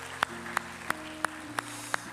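A church congregation claps in welcome during a newcomers' service. Six crisp, evenly spaced claps land about three per second, soft and rhythmic over a low steady hum, with no voices.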